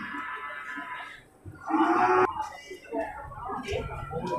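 Water buffalo at a livestock market in Bireuen, Aceh, with a low lowing call rising near 1.5 to 2.3 seconds amid steady market chatter and voices talking throughout.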